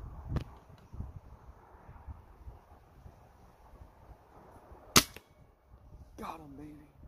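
A Hatsan .30 caliber air rifle fires once at a squirrel outdoors, a sharp sudden crack standing out against quiet wind and faint rustling, with a brief voice just after.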